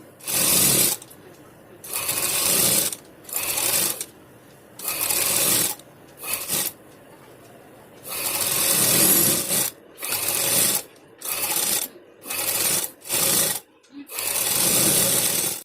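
A sewing machine stitches a cotton kurti in short repeated bursts of fast mechanical whirring, each run lasting about a second or two, separated by brief pauses, close and clear.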